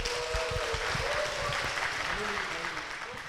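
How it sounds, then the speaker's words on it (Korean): Church congregation applauding to welcome a speaker to the front, steady broad clapping throughout with a faint tonal voice or music line above it, moderately loud and continuous. "박수로 모시겠습니다."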